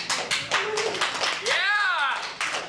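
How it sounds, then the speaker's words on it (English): Scattered audience applause and clapping break out at the end of a campaign announcement, under whooping, cheering voices. "To conclude then, you could applaud at this point."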